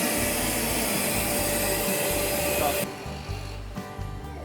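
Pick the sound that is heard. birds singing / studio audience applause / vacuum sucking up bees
vacuum sucking up bees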